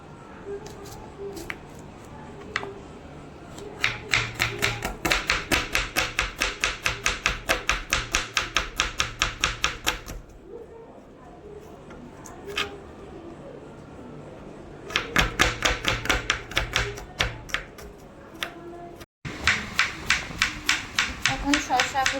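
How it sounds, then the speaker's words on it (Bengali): Rapid rhythmic knife chopping of cucumber, coriander leaves and onion on a board, in several fast bursts separated by short pauses, close and fairly loud. "এখন শসাগুলোকে এরকম ছোটো ছোটো করে কুচি করে নেব।"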